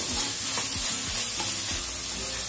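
Eggs frying in a pan for egg bhurji, a steady close sizzle with repeated scraping stirs of a spatula, no talk.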